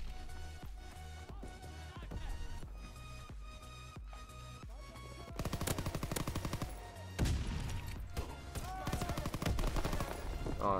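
Shotgun and rapid gunfire in an online shooter video game, with dense, loud bursts of repeated shots over game music and effects, intensifying partway through.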